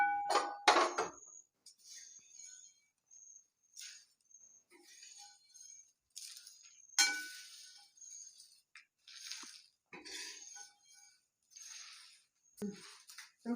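Roasted spices for homemade sambar powder are scooped out of a pan with a metal spoon, giving a string of sharp scraping clinks and scrapes close by, spread across the quiet with short pauses between.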